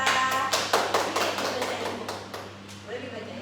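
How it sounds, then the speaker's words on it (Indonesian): Classmates clap for a student named Salsa in a classroom, a short burst of sharp, separate hand claps that soon trails off, with talk and a steady low hum underneath. "Tepuk tangan juga Salsa"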